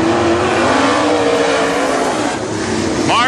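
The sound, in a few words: WISSOTA modified race cars racing at Princeton Speedway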